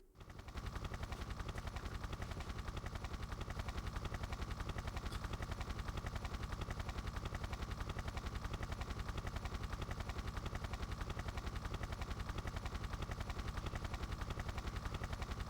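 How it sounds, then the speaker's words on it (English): Helicopter in the video game Tomb Raider 3, a fast, regular rotor chop repeating steadily and evenly for the whole stretch, fairly faint and without any speech. "Helicopter, helicopter."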